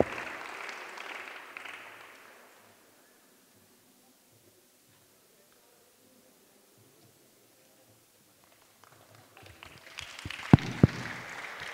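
An audience at a church youth gathering claps in a dense burst that fades out over about two seconds; after a long quiet stretch, clapping resumes with a few sharp thumps.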